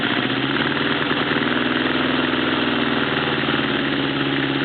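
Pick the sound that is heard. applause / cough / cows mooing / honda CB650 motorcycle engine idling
honda CB650 motorcycle engine idling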